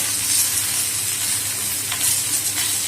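Spices with turmeric and yogurt sauté for a Bengali fish kalia, giving a steady, loud, close sizzle that holds evenly without pauses, with no one talking.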